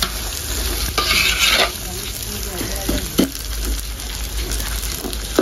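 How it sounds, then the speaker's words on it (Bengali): Rice sizzles in hot oil while a spoon stirs it steadily, with scraping and a few sharp clinks against the pan. No one speaks. "চাল দিয়ে তেলের সাথে খুব সুন্দর করে কিছুক্ষণ ভেজে নিব"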